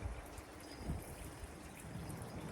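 Rinse water from a pole-fed window-cleaning brush trickles and runs down window glass, a faint continuous wet hiss and patter with no voices.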